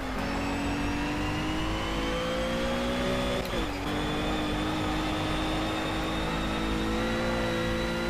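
A race car engine in the Project CARS video game whines at high revs and bounces off the rev limiter, with a brief stutter midway before the drone climbs again, steady and unbroken.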